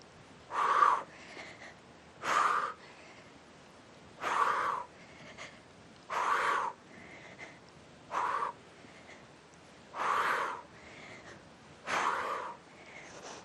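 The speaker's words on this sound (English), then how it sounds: "You hear my breathing?" Heavy, forceful breaths from a person mid-workout, exhaled in a steady rhythm about every two seconds, seven clear puffs close to the microphone with near-silence between them.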